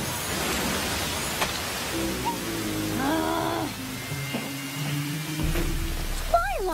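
Cartoon rain pouring steadily from a rain cloud, a soft even hiss with scattered drips, while faint tonal music and effects play underneath.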